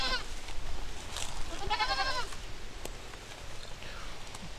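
Goats on a farm bleat close by, two or three wavering calls in the first half over a quiet background, fainter afterwards.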